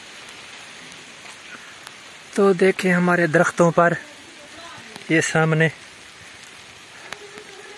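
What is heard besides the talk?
heavy rain falling on trees in a village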